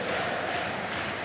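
Stadium crowd at a rugby league match between Wigan and Leeds, a broad sustained roar of cheering that fills the whole moment at steady loudness.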